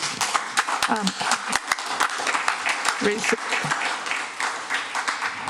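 Audience applause at a city council candidates forum, dense steady clapping from a crowd filling the room, with a few brief voices cutting through.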